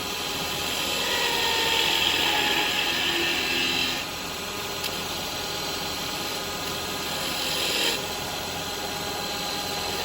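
A carbide tool cuts into spinning wood on a lathe while a spinning top is being turned, giving a continuous close, rough scraping hiss that shifts slightly in tone as the cut changes.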